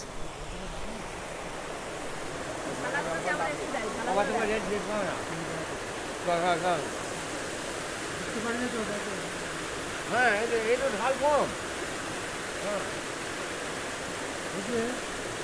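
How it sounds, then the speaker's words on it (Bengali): The Rock Garden waterfall in Darjeeling gives a constant broadband roar of falling water, with people's voices talking intermittently over it. "আর এটাই হচ্ছে রক ওয়াটারফলস।"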